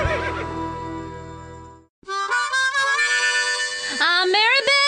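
Horse whinny on the K-Rose country radio station in GTA San Andreas, a loud, close, high neigh that wavers and falls, following a sustained tone that ends in a short break.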